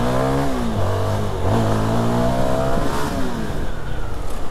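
A CFMoto SR 250 motorcycle engine revs loud and close, its pitch climbing and then dropping at gear changes as it accelerates hard through the gears, with wind rush underneath.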